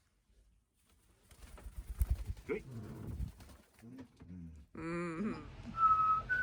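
A rescued parrot gives a run of whistles and cooing calls, some rising and warbling, near and fairly quiet, mixed with soft speech and movement noises.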